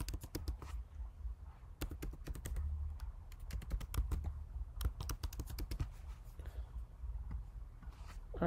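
Someone types on a computer keyboard, entering card details in quick irregular bursts of crisp key taps with short pauses between them, close and fairly quiet, with no speech.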